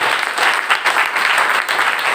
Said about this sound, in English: Give a good clap to everyone.